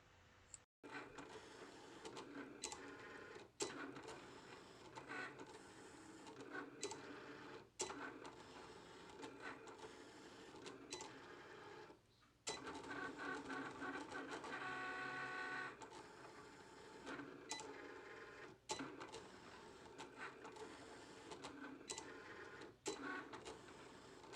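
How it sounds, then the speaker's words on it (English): Printer printing out a journaling sticker sheet, a close, faint mechanical whirring and feeding hum broken by repeated clicks and clunks as the paper advances, with no talk. "then print, and it's going to print this out"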